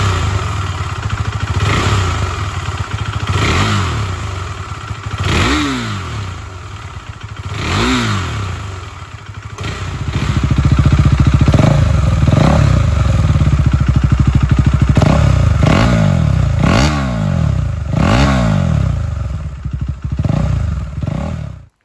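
A 401 motorcycle with a modified exhaust revs repeatedly, each blip of the throttle rising and falling in pitch over a loud, close idle, followed by a sustained throttle-up and then more sharp revs, with no talking.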